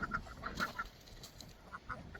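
Geese honking in short, spaced calls by the water of an island garden, a few loud near honks followed by a quieter pause and a couple more, set against a low outdoor rumble.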